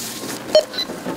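A single short electronic beep from a grocery checkout scanner at a closing small-town supermarket, brief and clear, followed by faint store background noise.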